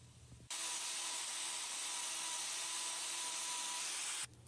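A power tool grinds a bull's left rear hoof during a trim for a white line problem, making one loud, continuous close whir that starts abruptly and stops about four seconds later.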